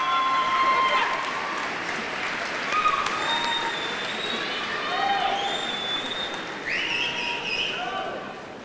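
A midyear college commencement crowd applauds families in a large hall with a broad wash of clapping, while a few voices and whistle-like tones rise over it.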